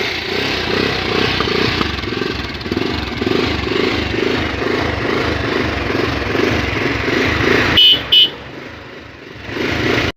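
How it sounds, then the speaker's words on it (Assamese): A motorcycle on a market road runs close by with a throbbing, pulsing engine, and a sharp horn-like burst sounds near the end before the engine note carries on. "আপোনালোকে আহি বাইকত বহক আৰু মই লগালগ বাইক ষ্টাৰ্ট।"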